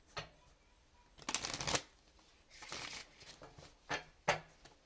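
Alice in Wonderland oracle cards are shuffled close by in irregular bursts, a brief flick, a long crisp riffle, softer sliding, then a few sharp snaps, with no one talking.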